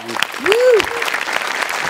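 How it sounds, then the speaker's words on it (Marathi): A studio audience at a Marathi comedy show bursts into loud, dense applause lasting a couple of seconds, with a rising whoop and cheering voices mixed in. "जोरदार टाळ्या"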